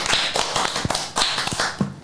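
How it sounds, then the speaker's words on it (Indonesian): A small group claps at a casual campus talk show, sparse uneven hand claps and taps close by, rising and falling in short bursts. "Kita kasih tepuk tangan nih."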